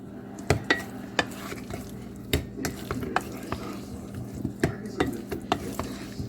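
Spoon scraping and clinking against a pan while food seasoned with garlic powder is stirred, with repeated sharp knocks and a low sizzle underneath, close and fairly loud.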